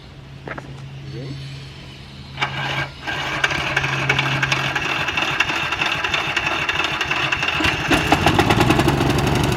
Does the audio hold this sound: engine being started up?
yes